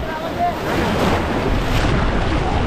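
Sea waves wash onto the shore at Velankanni in a steady broad roar, with wind buffeting the microphone throughout.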